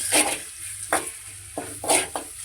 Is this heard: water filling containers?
no